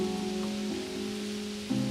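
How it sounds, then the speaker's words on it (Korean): Rain falling as a soft, steady hiss, layered under sustained low droning tones that swell briefly near the end, with no speech. "비가 오는 날이었어."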